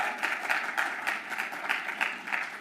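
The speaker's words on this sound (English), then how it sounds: "yes, that deserves a clap." Audience applause during a speech on Iran's secular movement, a moderate spell of clapping with a regular pulsing rhythm, fairly distant and steady throughout.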